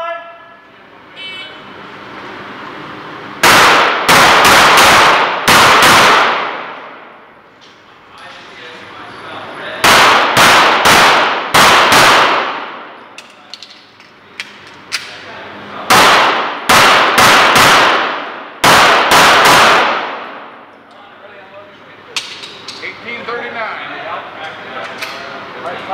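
Pistol shots ring out in rapid strings during a stage of an IDPA shooting match, several quick bursts of sharp, loud cracks separated by pauses, with a voice heard faintly between the strings.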